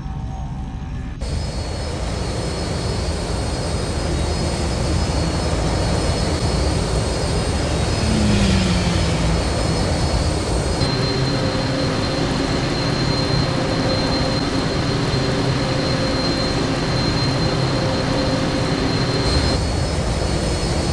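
Attacking starships from the Star Wars Jedi Academy video game roar past in a sustained, loud jet-like rush, with a rising and falling whoosh of engines throughout and no talk.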